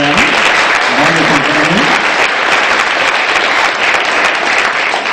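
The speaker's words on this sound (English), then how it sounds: "Round of applause for the Locke family." Audience applause at a fair event honoring a ballroom sponsor family, loud and steady for about five seconds, with a voice talking briefly over the start.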